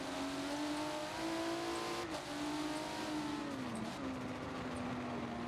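A race car engine drones in a sim racing video game at Brands Hatch, a steady high-pitched whine that holds and shifts slightly in pitch, loud and continuous, with other engine noise layered beneath.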